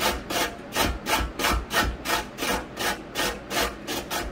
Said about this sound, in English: I'm just going to use a box grater for this, and we're just going to shred these down